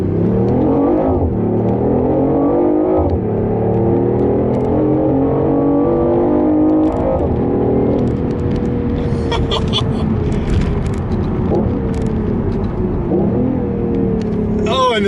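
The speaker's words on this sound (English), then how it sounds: "Oh, and the downshift. They have made that noise sound so good." A BMW i8 hybrid sports car accelerates hard through several gears, its engine note climbing and dropping with each shift, then downshifts with crackling pops, loud and steady inside the cabin while someone talks over it.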